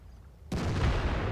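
A tank gun fires in World of Tanks, a single sharp loud boom that breaks out of near silence and rolls on as a dense blast tail.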